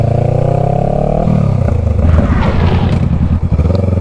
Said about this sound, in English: How about another skid here for you?